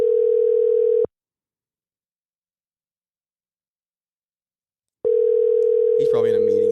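Ringback tone on a phone call to someone, one long steady tone, a few seconds of silence, then the tone returns as a voice starts talking over it.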